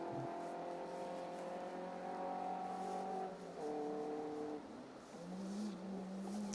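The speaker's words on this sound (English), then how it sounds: "Sound like fabulous little cars." Distant rally car engines on a gravel forest stage drone and rev steadily, pitch shifting as they accelerate and change gear, with no talking.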